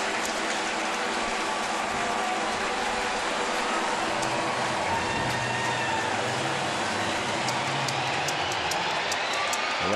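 A loud, continuous crowd roar fills the stands at a Cardinals vs Mets baseball game during a tense inning, a dense wash of voices and noise that never lets up.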